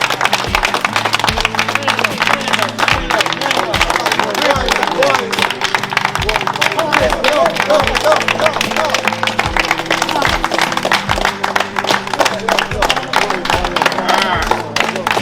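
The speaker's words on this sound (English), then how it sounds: "So we have to give Star from Bronx a round of applause." A live audience gives Star from Bronx a round of applause, dense crowd clapping sustained throughout over a steady beat of background music, with voices and crowd noise mixed in.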